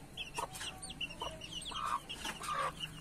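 A chicken clucks several times close by, short throaty calls in an uneven rhythm over a quiet outdoor background.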